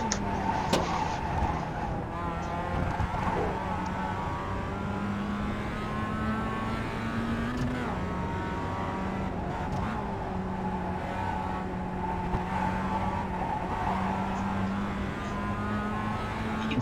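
Race car engine in a racing video game holds a steady droning whine with small shifts in pitch, loud and continuous with brief rises, under light background sound.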